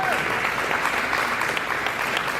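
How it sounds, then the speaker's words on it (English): Audience applause at a community celebration of America's 250th, honoring a local mayor, a steady dense wash of clapping that fills the whole moment with no voices over it. "So please give a big round of applause to Lily May."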